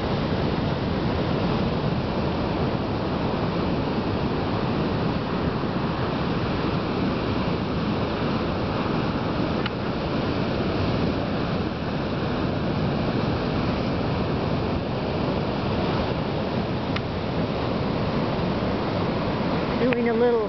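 Ocean waves wash steadily along the Sonoma coastline at sunset in January, a continuous loud roar of surf with wind, close and unbroken.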